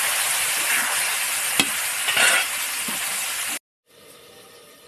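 Turmeric, salt and cumin spice paste sautés with vegetable stalks in a pan for a fish curry, a loud, close, continuous sizzle with a few scraping stirs, cutting to silence briefly before a fainter, tonal hum resumes.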